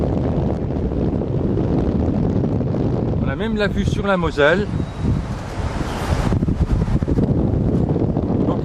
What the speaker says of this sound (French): Ça remue un peu parce qu'on a du vent.